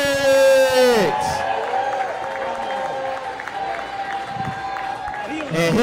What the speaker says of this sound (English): I want y'all to give a big round of applause